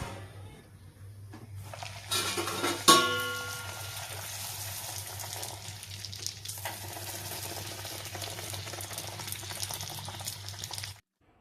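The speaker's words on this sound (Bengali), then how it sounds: "আর একটু কড়া কড়া করে ভাজতে হবে।" Fuchka puris deep-frying in hot oil give a steady, close sizzle that swells after a sharp clatter and keeps bubbling evenly before cutting off abruptly, with a low hum running underneath throughout.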